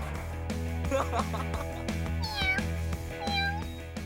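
A cat meows several times over a droning musical background, the cries rising and falling in pitch, fairly close and clear.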